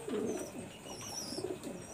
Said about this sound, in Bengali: এটা হলো আমার ঘরের মাস্টার পেয়ার কবুতর।